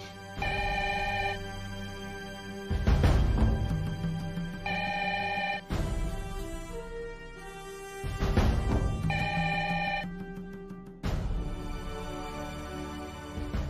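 A telephone rings late at night, a loud ringtone playing in repeated bursts of several seconds each with short gaps, alone and close, over a low musical underscore.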